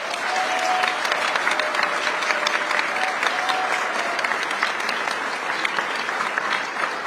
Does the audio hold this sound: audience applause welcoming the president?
yes